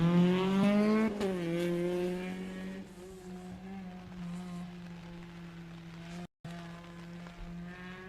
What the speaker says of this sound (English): It should be Alistair Ingram in the Honda Civic